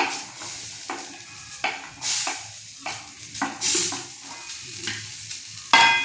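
Onions stirred in a pan where grated coconut is roasting, with frying sizzle as a steady hiss and scraping stir strokes recurring every second or so, close and alone.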